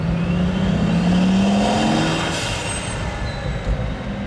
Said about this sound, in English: This might be the best turbo I've ever heard.